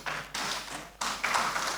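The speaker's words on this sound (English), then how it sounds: "Please, a round of applause for David." A conference audience applauds at a flood outlook event, giving a steady, moderate wash of clapping that swells in a few waves over under two seconds.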